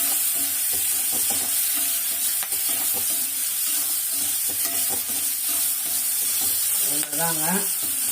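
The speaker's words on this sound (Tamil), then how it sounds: "புளி அந்த இலையோட இதெல்லாம் போகும் நல்லா வதங்கணும்" Tamarind leaves sautéing in a pan, a loud continuous sizzle with repeated stirring scrapes of a spatula, and a brief voice-like sound near the end.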